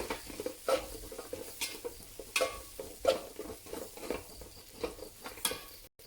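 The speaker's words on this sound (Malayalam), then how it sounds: "നമുക്ക് എല്ലാം കൂടെ ഒന്ന് മിക്സാക്കി കൊടുക്കാം" Kothu parotta being stirred and mixed in a sizzling pan, with a steady frying hiss under repeated scraping and tapping strokes of the spatula, close and moderately loud, no voices.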